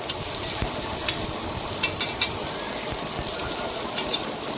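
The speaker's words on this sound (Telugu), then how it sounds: "సాల్ట్ వేసుకుని కొంచెం ఫ్రై అయ్యాక పచ్చిమిర్చి వేసుకుని కొంచెం మిక్స్ చేసుకోవాలండి" Green chillies and salt frying and being stirred in a pan while cooking coconut rice, giving a steady sizzle with scattered soft utensil scrapes and clicks, close by, with no talking.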